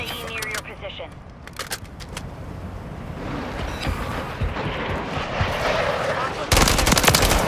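Automatic rifle fire rattles in rapid bursts during a Call of Duty: Modern Warfare 3 firefight, sharp and loud, growing into a dense sustained volley at the end, with radio voices talking between the shots.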